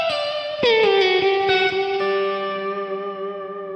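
An electric guitar note bends and slides down in pitch through a whammy pedal into a mid-gain amp, then rings out with long trailing delay and reverb, played alone.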